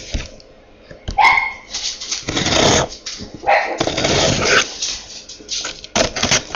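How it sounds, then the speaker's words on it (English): Dogs bark loudly and close by in a home, several sharp barks and yips in irregular bursts with short gaps between them. "Don't mind the dogs."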